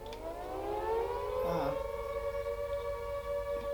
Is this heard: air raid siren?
yes